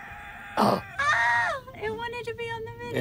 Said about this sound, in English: The rooster wanted to talk.